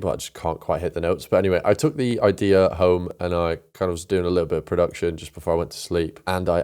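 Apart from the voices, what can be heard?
No everyday noises stand out.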